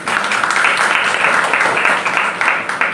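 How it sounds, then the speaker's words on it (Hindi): An audience claps together in a dense, steady burst of applause that holds at an even level for the full length, with no voices standing out above it. "बजाओ ताली"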